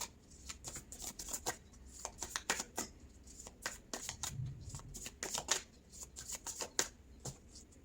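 Tarot cards shuffled by hand: a rapid, uneven series of crisp card snaps and riffles, close and fairly quiet, continuing throughout.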